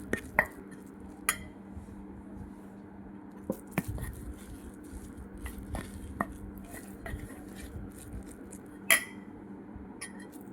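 Spoon mixing a thick curd-based body whitening paste in a small bowl, soft squishing scrapes with scattered sharp clinks against the bowl, steady and close.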